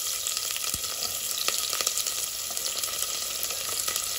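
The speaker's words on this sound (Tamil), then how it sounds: "இதெல்லாம் நல்லா பொரிஞ்சதும் 2 வெங்காயம் ஆட் பண்ணிக்கோங்க." Onions added to hot oil with fennel and whole spices for vegetable biryani fry with a constant loud sizzle, with faint scattered spatula taps and crackles over the hiss.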